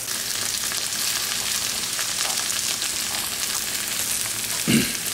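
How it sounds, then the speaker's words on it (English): Okra fries in a pan with a steady, loud broadband sizzle, and a spoon stirs it throughout, with a brief scrape of the utensil near the end. No one speaks. "as I'm stirring this okra up"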